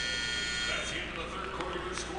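A sustained electronic buzzer sounds at the end of a high school basketball game, Owasso against Jenks, droning loudly under crowd noise and an announcer's voice.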